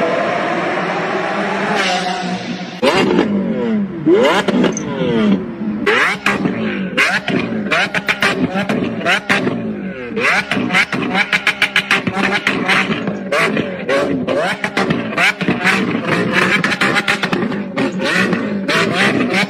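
A Lamborghini car engine revs loudly and repeatedly up close, with rapid climbing and falling bursts of throttle that run continuously from start to finish.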